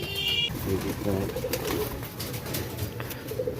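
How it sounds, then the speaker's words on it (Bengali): A Giribaj pigeon coos in low repeated phrases amid a busy pigeon farm, with other birds and people talking nearby throughout. "এটা গিরিবাজ পায়রা"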